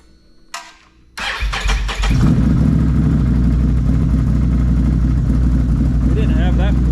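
Can-Am Renegade 4X4 XXC 1000 ATV engine cranking, catching and settling into a loud steady idle after a frame swap, with a brief click beforehand and a voice briefly under the running engine.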